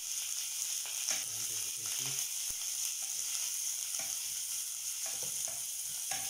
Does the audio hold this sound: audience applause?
no